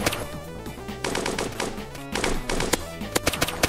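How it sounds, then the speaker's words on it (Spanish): Rapid bursts of machine-gun fire in Dusty Trip crackle in sharp volleys over a busy game soundtrack, growing denser and punchier toward the end. "Disparan ráfagas."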